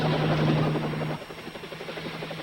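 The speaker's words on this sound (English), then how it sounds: "A helicopter coming out of the east in the rising sun." A crop-duster helicopter flies nearby, a loud steady rotor drone with a sustained whine that drops in pitch partway through and continues as a pulsing chop.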